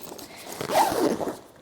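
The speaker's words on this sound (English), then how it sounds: "So what I do is just zip this up" A zipper runs closed along a travel bag in one quick, close pull, rising and then fading, with no voices.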